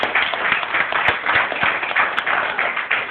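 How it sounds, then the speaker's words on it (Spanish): A church congregation applauds together in steady, dense clapping that fills the room evenly, loud and continuous, with some murmured voices underneath. "Préndele una ofrenda de aplausos al Señor por eso."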